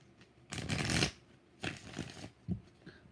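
A close riffle of tarot cards being shuffled, followed by a shorter second shuffle and a soft tap, with quiet gaps between.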